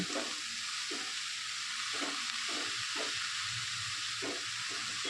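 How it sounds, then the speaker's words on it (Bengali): A spatula stirs red amaranth greens (lal shak) in a pan, a steady low sizzle under repeated scraping strokes roughly once a second, close and fairly quiet. "এবার আমি খুন্তি দিয়ে এটাকে এভাবে নাড়িয়ে নেব"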